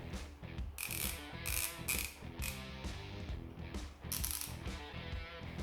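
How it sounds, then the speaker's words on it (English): A Stahlwille standard-length 80-tooth ratchet gives quiet, fine, rapid clicking in several sweeps of the handle, each a close run of small ticks separated by brief pauses, with no talk. "Stahlwille teeth counts are 80 and it's smooth."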